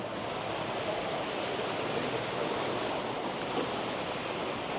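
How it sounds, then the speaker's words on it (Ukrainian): Indoor waterfall inside a large outdoor-goods store in Toronto, a steady rushing hiss of falling water, even and continuous with no talk. "Водоспад цілий."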